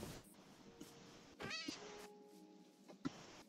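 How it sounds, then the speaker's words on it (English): Cat meows as it is killed in the video game Minecraft, a few short, faint mewing cries spread through the clip over a low background, with no talking. "I'm killing a cat."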